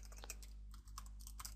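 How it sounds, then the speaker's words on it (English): Someone typing an email address into a settings field on a computer keyboard, scattered soft key clicks over a constant low electrical hum, faint and without speech. "you need to type in the email that the error report should be sent to"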